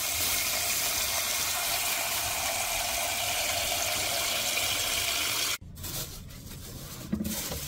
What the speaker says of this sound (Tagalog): So, lalagyan natin siya ng tubig.